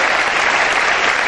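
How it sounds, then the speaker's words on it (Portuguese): A church congregation breaks into loud, close applause, a dense continuous wash of clapping hands lasting just over a second. "Vamos aplaudir"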